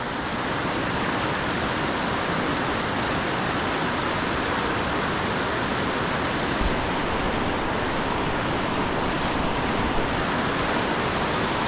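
Rushing water of the Youghiogheny River's Entrance Rapids in Ohiopyle State Park roars steadily and loudly throughout, a dense unbroken wash close by.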